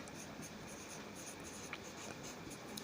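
A pen writes on paper, a faint, close, soft scratching that runs continuously in a quiet room.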